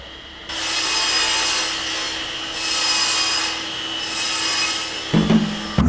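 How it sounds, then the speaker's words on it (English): Continuous broadband rasping of plywood being sawn nearby in a workshop, loud and steady with slight swells in intensity, followed by a brief knock at the end. "Ferdy's just sawing in there, so it's very loud"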